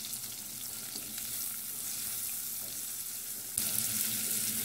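Onion sizzles in rendered chorizo fat with a steady, even hiss. The hiss grows a little louder near the end and keeps going at a constant close level, with no talking.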